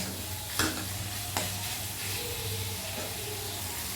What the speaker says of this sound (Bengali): মশলার সাথে এই সয়াবিনটা আমি কষে নেব